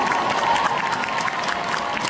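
A crowd at a cosplay convention stage claps steadily and enthusiastically, a dense, even patter of many hands without pauses or talk.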